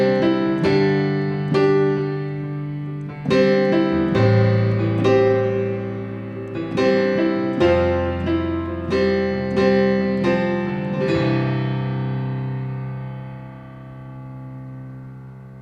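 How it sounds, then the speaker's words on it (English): Sampled 7-foot Yamaha acoustic piano from Ivory software, with reverb added, plays a slow chordal passage of rich sustained chords, ending on a long decaying chord that rings out. "The acoustic piano sounds like this."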